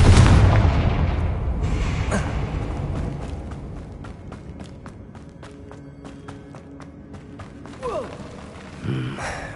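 A Confringo fire spell bursts in the Hogwarts Legacy video game: a loud, deep blast opens the moment, then fades into a low rumbling tail and ambient game sounds, with a few sharper thuds near the end.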